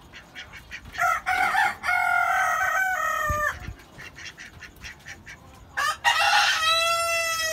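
A rooster kept with hens in a rooftop coop crows loudly and close, several drawn-out cock-a-doodle-doo calls broken by short clucks and quieter pauses, with no talking.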